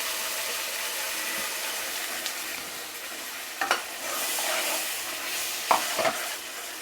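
Ground masala paste hits a hot pan for paneer butter masala, a steady broad sizzle running throughout with a few sharp spoon scrapes and clinks against the pan near the end.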